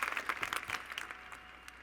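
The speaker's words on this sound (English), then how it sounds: "Clap for Mr. Kingman, not for that." A large convention audience gives a burst of applause that starts loud with distinct claps and then quickly thins out and fades.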